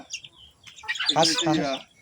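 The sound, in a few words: chickens clucking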